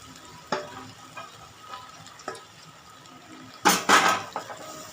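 A spoon scrapes and clinks in a pan while caramel is stirred with milk, cocoa powder and milk powder over low heat, with soft intermittent knocks and a couple of louder scrapes, close up.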